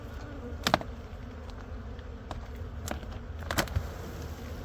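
Honeybees buzz steadily around an opened hive with roughly 30,000 bees inside, a close, continuous drone with a few louder passes of single bees flying near.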